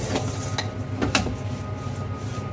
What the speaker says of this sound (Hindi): अब इसमें आराम से आपका लड्डू बन जाएगा, इसको अच्छी तरह से मिक्स करना है